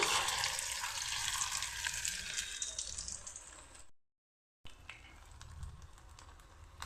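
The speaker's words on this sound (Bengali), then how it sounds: "এভাবে করে ভেজে নিচ্ছি" Stuffed bottle gourd leaf roll frying in hot oil in a kadai: a close, steady crackling sizzle that fades, cuts out for a moment, then returns as a softer hiss.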